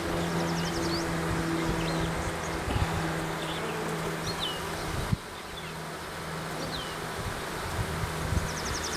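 Honey bees in a hive, two weeks after being hived, fill the space with a dense, continuous buzz that stays steady and close throughout, with no talking.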